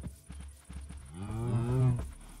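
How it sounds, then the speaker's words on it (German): Cows mooing in the video game Minecraft, Jurassic Minecraft modpack: one long, loud, drawn-out low moo swells near the end, after a few short soft thumps, with no talk over it. "Kühe."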